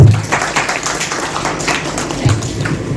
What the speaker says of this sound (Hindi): इसी बात पर तालियां।